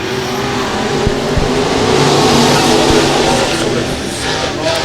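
Race cars at full speed at Boyd Raceway, a loud continuous engine roar of several cars racing together with no talk.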